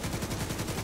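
Rapid automatic gunfire at a boss's box during a video game raid, heard as a dense, continuous burst of shots, loud and close with no talk.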